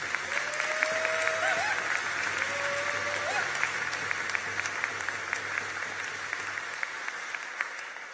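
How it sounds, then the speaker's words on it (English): Steady applause from a convocation audience fills the hall for graduating trades, technology, arts and heritage students, a dense even clatter with faint tonal whistles underneath. "we ask that you honor these students by giving them a round of applause"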